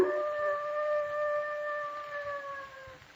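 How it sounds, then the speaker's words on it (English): A dog howls in one long, drawn-out, wavering cry that slowly fades, heard alone against a quiet background at moderate distance. "That sounded like a dog howling."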